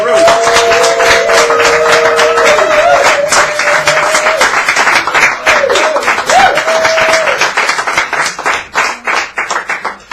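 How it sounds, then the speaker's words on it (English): Close, loud clapping from an audience at an open mic night in a San Francisco cafe, with whistles and cheers over it early on, breaking into scattered claps toward the end. "Give them a big round of applause."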